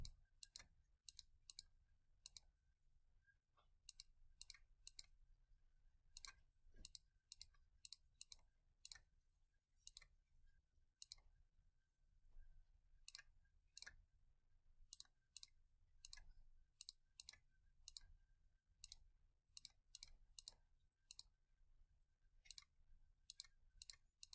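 Calculator buttons are pressed while a data table is typed in, producing many quick, faint plastic clicks in short bursts and irregular clusters, spread across a quiet background with no talk.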